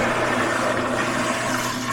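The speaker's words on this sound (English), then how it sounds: "That's a good flush." Pressure-assist toilet flushing after a cartridge replacement, a forceful, steady whoosh of water held loud and close for the full two seconds, without talk.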